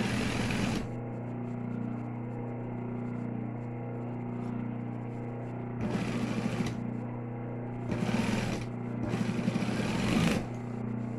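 A sewing machine stitches the seam of a fabric cover for a surgical mask, running in several short bursts of fast mechanical whirring over a constant low hum.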